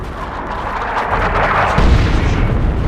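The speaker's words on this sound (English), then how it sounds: "Launch barrage! Artillery! Clear the area!" Artillery barrage from the Dawn of War 2 Chaos Rising video game: a continuous roar of heavy booms and rumbling explosions, loud and close, swelling in the second half with no talk over it.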